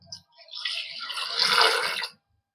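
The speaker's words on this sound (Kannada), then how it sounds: "ನೀರು ಹಾಕೊಳ್ಳಿ, ಒಂದು ಅರ್ಧ ಬಟ್ಲು" About half a cup of water splashes into a pressure cooker holding black-eyed peas, tomato, green chilies and salt, a short close pour lasting under two seconds after a small clink, then silence.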